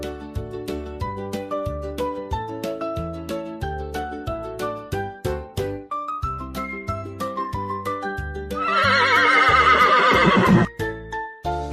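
A horse gives one loud, clear neigh near the end, heard over soft, plucked background music.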